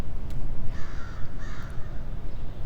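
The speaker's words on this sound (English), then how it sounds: "And there was also a crow." A crow caws twice in close succession, harsh and fairly loud over a noisy outdoor background.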